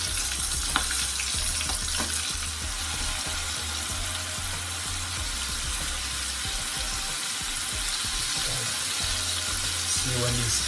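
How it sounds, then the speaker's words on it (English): Shrimp deep frying in hot oil, giving a loud, continuous, dense sizzle with a low rumble underneath and occasional faint knocks. "you're going to deep fry them for about 2 minutes"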